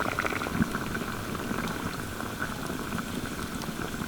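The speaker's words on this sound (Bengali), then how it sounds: "এবার আমি ঢাকা দিয়ে আলুগুলো খুব ভালোভাবে সিদ্ধ করে নেবো" Potatoes simmer in gravy inside a covered pan for a vegetarian Nawabi aloo dum, giving a steady, dense bubbling and popping that holds at an even level throughout, with no voices.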